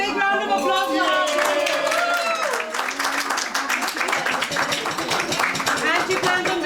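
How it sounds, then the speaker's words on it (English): Audience at a Tottenham press conference for an MP candidate breaks into sustained, loud clapping that fills the room, dense and close, easing slightly midway before continuing. "Big round of applause for her."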